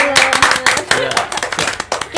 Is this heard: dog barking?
no